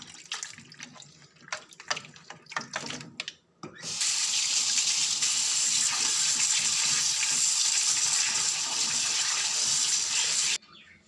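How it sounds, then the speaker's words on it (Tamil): A strong stream of tap water pours steadily for about seven seconds over mutton pieces being washed with turmeric in a kitchen sink, after a few seconds of faint handling clatter and splashes. "அதுக்கு மஞ்சள் கொஞ்சம் போட்டுட்டு நல்லா வாஷ் பண்ணி எடுக்க போகிறோம்."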